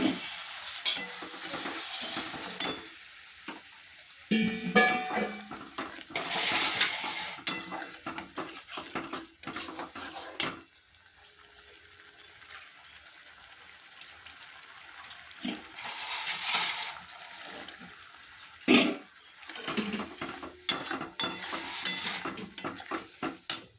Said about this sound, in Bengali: মশলাটা খুব ভালো করে আমার কষানো হয়ে গেছে।